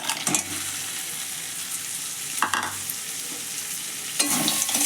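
Ground fried fish head being stirred and fried in a pan for a village-style jackfruit-seed dal, a steady close sizzle with a few sharper scraping stirs throughout.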